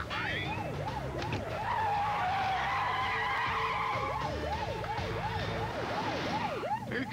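Car braking hard with a long tyre skid squeal, under a wailing emergency siren that rises and falls repeatedly, loud and continuous throughout.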